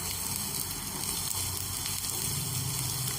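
Finely chopped white spring onion stir-fried over high heat in a pan for soya chilli, giving a loud, steady, close sizzle that runs without a break.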